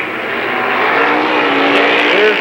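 Late model race cars at Lernerville Speedway roar past in a loud, sustained engine drone that swells and shifts in pitch as the pack works through the turns, with no talk over it.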